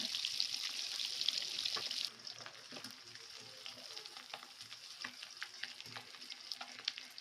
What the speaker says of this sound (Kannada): ಇದರಿಂದ ಫಿಶ್ ಡೀಪ್ ಫ್ರೈ ಮಾಡೋದ್ರಿಂದ ಫುಲ್ ಕ್ರಿಸ್ಪಿ ಆಗುತ್ತೆ